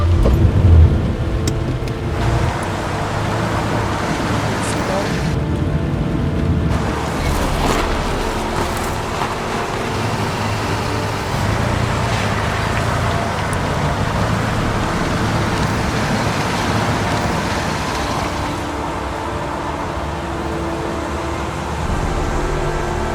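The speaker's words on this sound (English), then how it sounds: "I love the sound of rain in a car." Heavy rain heard from inside a car, a continuous loud broadband roar of water that stays steady throughout, with a low rumble underneath and no voices.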